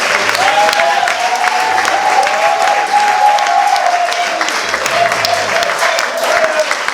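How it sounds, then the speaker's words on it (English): An audience applauds children after a comedy performance, loud continuous clapping from a full crowd throughout, with a voice speaking over the applause and a brief sustained tone in the middle. "can you clap for the children one more time?"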